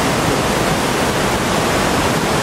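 A waterfall at La Paz Waterfall Gardens in Costa Rica roars steadily and loudly, a dense unbroken rush of falling water close at hand with no voices.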